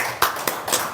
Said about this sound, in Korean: 하나님 앞에 감사의 박수 올려드리겠습니다.